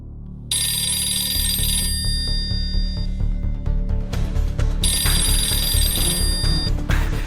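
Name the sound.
telephone ringing during a phone call in a movie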